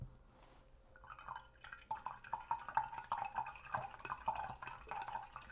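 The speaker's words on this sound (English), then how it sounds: "So let's wash again." A watercolor paintbrush swishes and taps in a cup of rinse water close by, giving soft irregular drips and light splashes at low volume with no talking.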